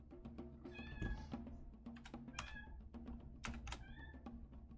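A house cat meows several times during a tabletop Dungeons and Dragons session, with short, faint calls repeating under keyboard typing and soft background noise.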